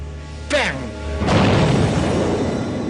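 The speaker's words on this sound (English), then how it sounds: "So I gave the orders to the gunner to fire" Tank gun firing at a Tiger tank, a sharp boom with a sweeping tone before it, then a broad rumbling blast that decays slowly; a voice is heard around it.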